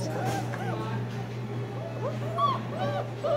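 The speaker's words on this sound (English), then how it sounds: "Say hello to the puppies." Several puppies whimper and yip in high, rising cries, close by, with people talking and a steady low hum underneath.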